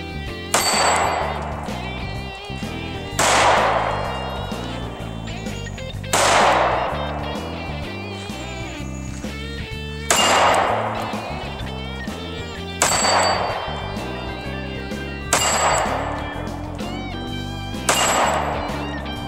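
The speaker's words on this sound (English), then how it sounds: "Let's pull the trigger and see what happens." An M&P9 Shield 9mm pistol fires seven sharp, loud single shots spaced roughly three seconds apart, each crack ringing briefly before fading.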